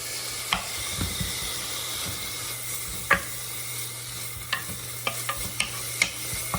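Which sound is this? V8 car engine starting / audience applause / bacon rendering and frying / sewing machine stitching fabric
bacon rendering and frying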